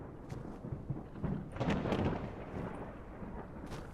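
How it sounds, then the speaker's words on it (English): Deep rolling thunder from a night storm in a torn-apart area of Fallout: London, a continuous low rumble that swells near the middle and then settles back under steady rain-like noise. "Kind of wish both the storm and the night weather would quit"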